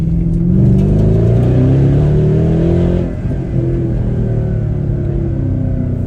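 A powerful Mercedes-Benz ML63 AMG engine revs loudly with a deep, throaty note, briefly easing off midway before surging again, heard close up and without talk.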